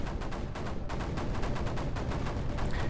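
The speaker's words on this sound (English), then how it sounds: "we're holding everything off with mortars" Mortars fire in the video game Creeper World 4 as a rapid, loud, continuous barrage of overlapping blasts with no pause.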